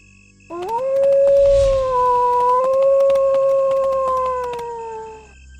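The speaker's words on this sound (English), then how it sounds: "I suddenly heard a long howling sound that sent shivers up my spine." One long, loud wolf-like howl rises and then holds a sustained wavering pitch for several seconds before fading out, alone against near silence.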